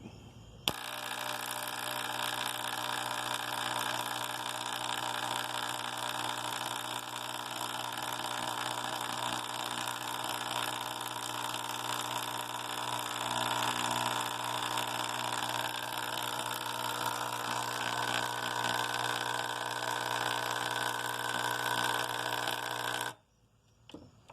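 A textile gun sprays water to clean epidote crystals, making a steady, loud, high-pressure hiss and whine that runs without a break for over twenty seconds before cutting off.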